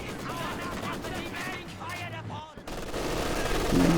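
LMG grenadiers in Company of Heroes 2 firing machine guns, rapid rattling bursts in a busy battle mix, partly under a commentator's talk.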